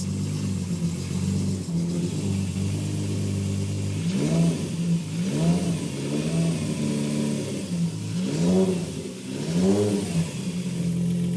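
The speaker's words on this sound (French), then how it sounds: "Si le moteur vrombit bien dans tout l'atelier, Vince penche quand même son oreille d'exper" A Volkswagen Golf 3 VR6 engine idles steadily in a workshop, then revs up in several rising and falling bursts, loud and close, with no talking.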